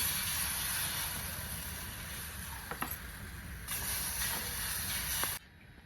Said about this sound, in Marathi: तर आता हे पीठ मी थोडं थोडं सोडून घेते